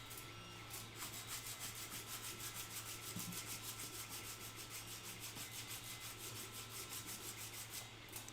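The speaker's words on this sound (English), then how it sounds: "So at this point, you could go in and do your sanding on it if you wanted to." Sanding a 3D-printed joint whose seams are filled with baking soda and super glue: a steady, continuous abrasive rubbing scratch that holds at an even level throughout, close up, with no talking.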